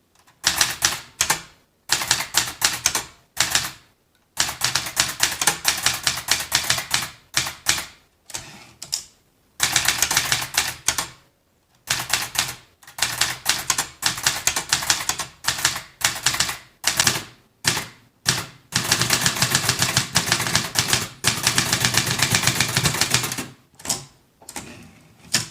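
Typing on a Brother ultralight typewriter, fast rapid-fire key strikes in long clattering runs broken by short pauses, close and loud with a mechanical rattle.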